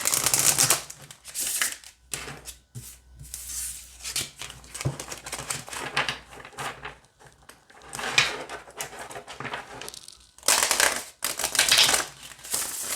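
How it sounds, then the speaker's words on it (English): A deck of oracle cards being shuffled, with irregular bursts of crisp riffling and slapping close up, broken by brief pauses. "So we'll shuffle and then we'll pull a card"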